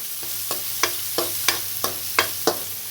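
Chopped onions frying in a pan for aloo patties, kept slightly crunchy, with a gentle steady sizzle broken by regular scraping stirs of a spoon about every third of a second.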